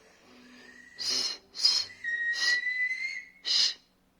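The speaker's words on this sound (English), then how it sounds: "I'm gonna measure my best whistle" Four sharp, breathy finger-whistle blasts, loud and close, separated by short pauses, with a thin steady tone lingering between them.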